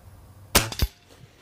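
Weihrauch HW77 Special Edition spring air rifle in 4.5mm firing, one sharp loud crack followed closely by a second spring-piston thump and twang, alone in a quiet setting.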